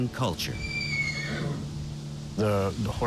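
A Parks Canada working horse whinnies with a rising, quavering call, then snorts and calls again near the end, with people talking in the background.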